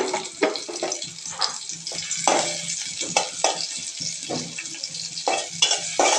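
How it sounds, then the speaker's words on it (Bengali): Onions frying in oil make a close, continuous sizzle broken by a rapid series of scraping stirs that come in irregular bursts over the hiss. "তো পেঁয়াজটা ভেজে নিচ্ছে।"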